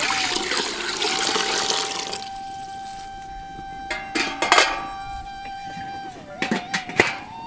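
Water pours briefly into a pot on the stove for steaming tumbler idli, with a rushing splash, followed by a few scattered metallic clinks and light knocks of cookware nearby.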